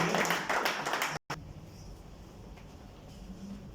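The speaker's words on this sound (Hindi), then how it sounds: "तो जोरदार तालियां सतीश भाई के लिए।" A crowd at a Holi get-together gives a burst of loud applause for a performer named Satish. Dense clapping fills the first second, stops abruptly, then gives way to quieter room murmur.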